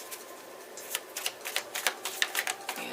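Tarot cards are shuffled by hand in quick, uneven riffling clicks and snaps that build and speed up toward the end, close and moderately loud, with no talk.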